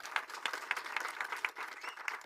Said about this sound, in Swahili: Naomba mpigie mheshimiwa makofi mazuri.